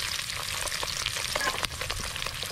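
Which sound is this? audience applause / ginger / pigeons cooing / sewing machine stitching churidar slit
ginger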